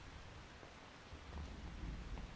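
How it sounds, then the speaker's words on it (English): Rain and thunder in Metal Gear Solid 3, a soft hiss of steady rainfall with a low rumble of thunder building in the second half, faint and without voices. "You can entertain me until the rain stops."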